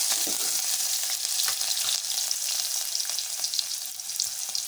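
Chopped onion frying in hot oil with mustard seeds and cumin, a steady close, bright sizzle with crackling pops, continuous throughout without any talking.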